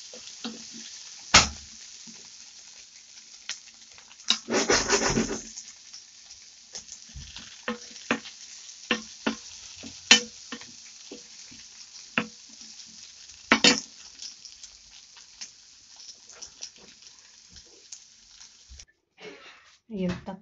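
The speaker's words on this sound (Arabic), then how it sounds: "نصفيهم شوية مع الزبدة" Potatoes fry in butter in a pan, giving a steady soft sizzle broken by sharp clinks and scraping bursts as they are stirred and turned, with one louder stretch of turning partway through.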